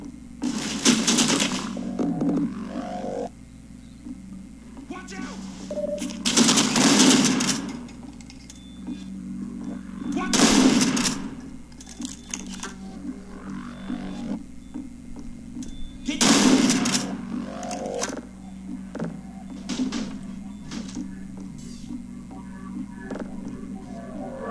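Automated turrets in Half-Life Entropy Zero fire in four separate short bursts spaced several seconds apart, loud rattling volleys over a low steady hum, with a voice speaking between them.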